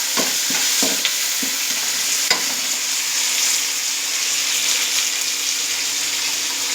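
Ingredients stirred and sautéed in hot oil in a pan for South Indian temple-style tamarind rice, with a steady sizzle of frying and a few sharp scrapes and clinks of the spoon against the pan early on, no talking.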